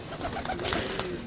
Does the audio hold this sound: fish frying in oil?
no